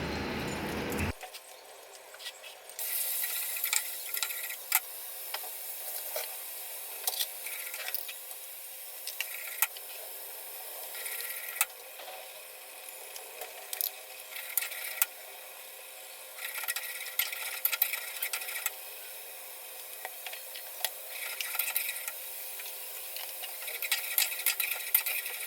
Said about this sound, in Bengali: আর এই সাইডে মাছের ডিম ভুনার জন্য মশলাটা দিয়ে একটু ভুনা করব।